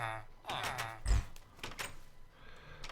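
A door opening in the Hypermine Infinity game, with a few soft knocks and a low thunk, short and close, while someone speaks over it.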